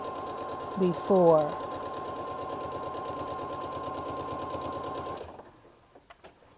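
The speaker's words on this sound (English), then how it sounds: "I'm going to go ahead and stitch right on top of where I stitched that" A sewing machine runs in a steady, continuous stitching whir for about five seconds as it sews over an earlier line of stitching, then stops; a brief voice cuts in near the start and a few light clicks follow.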